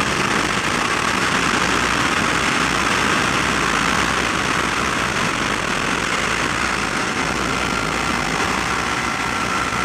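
Motorcycle engine running steadily while riding on a country road, a loud, constant broadband drone with wind rush that holds evenly throughout, with no voices.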